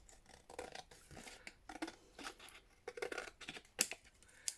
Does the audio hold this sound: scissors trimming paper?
yes